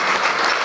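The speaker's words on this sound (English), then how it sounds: "A round of applause for the Sports and Recreation Minister" Brief burst of dense applause from an audience honouring Ghana's Sports and Recreation Minister at a Ghana Premier League content partnership launch, loud and steady with no gaps.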